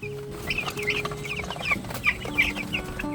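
Chickens on a farm are close by and cluck busily while pecking at freshly scattered feed. They make a steady run of short clucks with a low hum of activity underneath.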